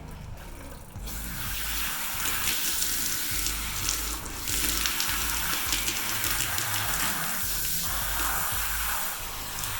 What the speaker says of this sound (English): all of that shampoo is rinsing out through the tail strands, getting all kinds of dirt out